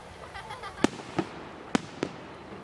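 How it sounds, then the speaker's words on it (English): Fourth of July fireworks go off in four sharp explosive bangs at irregular intervals, the first preceded by faint crackling, each booming and then fading against a quiet outdoor background. "even though there's fireworks falling out"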